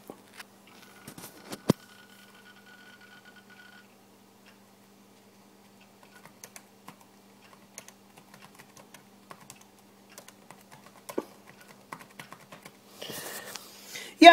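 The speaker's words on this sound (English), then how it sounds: "I'm actually pretty sure you could probably use it for typing." Sparse, light key clicks from typing on the shallow-travel keyboard of a Toshiba Libretto 50CT mini laptop, irregular taps up close in a quiet room, with a faint steady hum underneath.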